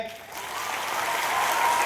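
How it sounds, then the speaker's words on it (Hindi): An audience at a road safety event in Jalandhar Army Cantonment claps for students, the applause building into a full, sustained round of clapping. "इनके सपोर्ट के लिए तालियां बजाएं।"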